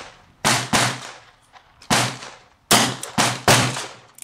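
Six shots from a .38 Colt New Police revolver firing 158 grain lead bullets over light Power Pistol loads: sharp, loud cracks, near and alone, spaced unevenly with brief echoes between.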